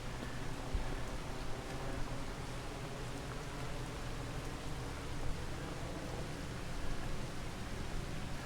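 Steady rain in a farming video game, a constant dense hiss of falling water that stays even throughout without breaks or voices.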